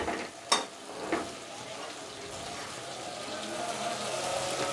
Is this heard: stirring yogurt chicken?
yes